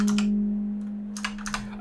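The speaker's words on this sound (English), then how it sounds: "I'm just going to type in the IP address." Short bursts of clicking keys as an IP address is typed on a computer keyboard, close and clear, with a steady low hum underneath.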